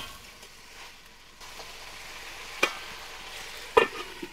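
Chicken meat with a splash of water in a pot is stirred on a rural kitchen stove, with a couple of sharp spoon knocks against the pot over a soft, steady background hiss.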